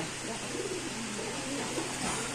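Soft, low pigeon cooing from a Rasgolla pigeon runs through the clip over a steady background hiss, fairly faint and continuous.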